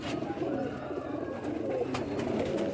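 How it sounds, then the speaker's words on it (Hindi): A fakir gull pigeon gives soft, low, murmuring coos that roll continuously at close range over a faint background hum. "ये दोस्तों बाजारी फ़कीर गुल कबूतर"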